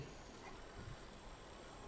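A moving train in the Assassin's Creed Syndicate video game gives a faint, steady rumble and rattle of rolling rail cars, continuous and distant with no talk.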